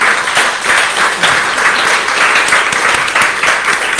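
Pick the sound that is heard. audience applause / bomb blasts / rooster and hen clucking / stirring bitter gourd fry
audience applause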